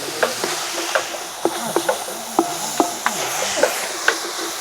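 Capsicum is stirred into frying kappa and beef, with a steady sizzle underneath and regular sharp spoon clacks against the pan about twice a second, close up.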